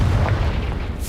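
Confringo, an explosive spell in Hogwarts Legacy, goes off as a single loud, deep boom that rolls across the whole brief moment without a pause.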